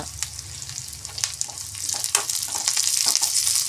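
Curry leaves hit hot oil while cooking kappa, bursting into a close, loud crackling sizzle with sharp pops that builds into a dense, steady hiss, no talking.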